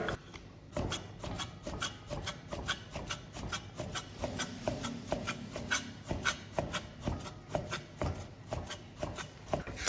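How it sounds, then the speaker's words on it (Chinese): A knife slicing skinned pork belly into thin pieces on a cutting board, producing a steady, fairly fast series of soft, close chopping taps and rubbing scrapes, with no voices. "100克五花肉去皮，"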